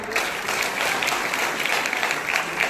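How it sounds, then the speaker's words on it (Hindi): A ceremony audience in Gola Gokarannath, Lakhimpur, gives the chairman a steady, close round of loud applause, dense clapping that carries without pause from start to finish. "एक बार जोरदार तालियां हमारे चेयरमैन साहब के लिए।"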